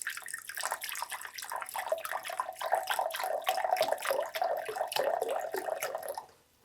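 Water pours in a steady stream into a bottle for a homemade vinegar cleaner, the gurgle rising in pitch as the bottle fills, then stopping abruptly.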